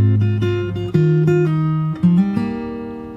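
A short fingerstyle guitar phrase from a song, several plucked notes over shifting bass tones that ring and decay, played close with no voice over it.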